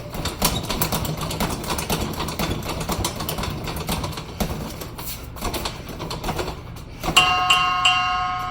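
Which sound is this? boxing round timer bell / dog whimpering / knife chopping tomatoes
boxing round timer bell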